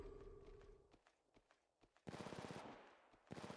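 Gunfire in the Apex Legends video game, faint single shots spaced out at first, then a quick rhythmic burst of automatic fire, a short pause and another burst starting.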